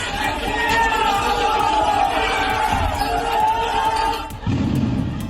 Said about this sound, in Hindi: बमबाजी के दौरान भीड़ की तरफ से अल्लाहू अकबर के नारे लगाए गए